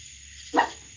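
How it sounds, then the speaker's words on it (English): A dog named Daisy gives a single short bark at mid-distance, breaking an otherwise quiet backdrop outdoors near metal roofs. "Even Daisy barked."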